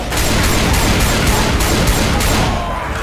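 Rapid automatic gunfire from the zombie shooter Left 4 Dead 2 hammers away in a loud, continuous, evenly spaced stream of shots for the whole stretch.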